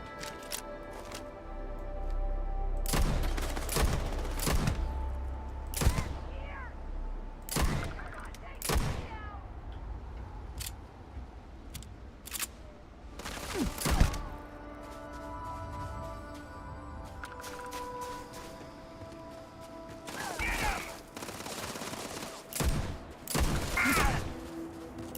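Shots from a caseless weapon in the space game Starfield fire as scattered sharp cracks and short bursts across the scene over a steady ambient hum, sometimes clustered and sometimes spaced apart, with occasional speech.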